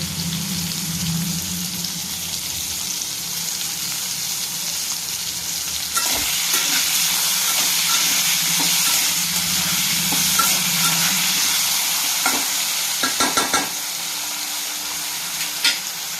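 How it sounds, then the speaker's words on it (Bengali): Potatoes fry with salt in hot oil for the fish dish seating macher rasa, making a continuous loud sizzle with scattered stirring scrapes and knocks toward the end, close and without speech. "একটুখানি নুন দিয়ে আলুগুলো ভেজে নেব।"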